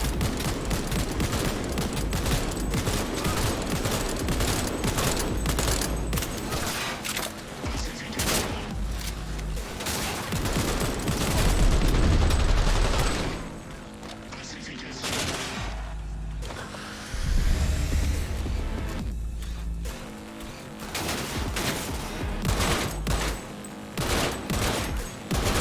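Rapid bursts of automatic gunfire and shots rattle through combat in the video game Cyberpunk, loud and dense with brief lulls and whooshing effects, no speech.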